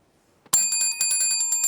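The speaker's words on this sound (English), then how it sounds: "I thought I'd have to hit the bell for that." A desk bell struck once after a quiet moment, giving a bright ringing tone that rattles and pulses as it slowly rings out, clear and close with no talking.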